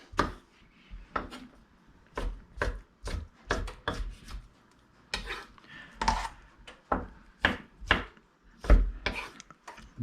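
A knife chops through tomatoes for pico de gallo, cutting around the core on a board: a steady run of sharp, close thuds and taps, fairly loud with short pauses between cuts.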